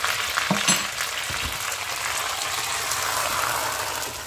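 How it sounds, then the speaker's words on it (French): Cooked meat goes into a sauce in a pan with olive oil, starting with a few clattering knocks and then a steady frying sizzle that holds throughout. "Maintenant, je vais mettre ma viande dans ma sauce."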